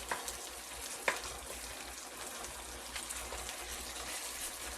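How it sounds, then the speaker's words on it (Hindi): Onions frying on full flame for Punjabi-style rajma masala, a soft steady sizzle with occasional stirring taps, fairly quiet and without talk. "और मैं इसको फुल गैस पे फ्राई कर रही हूँ।"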